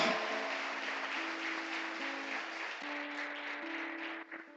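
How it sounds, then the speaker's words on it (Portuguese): A church congregation applauds steadily as a dense, even wash of clapping under a sustained musical tone, fading slightly near the end. "Aplauda ao Senhor mais uma vez."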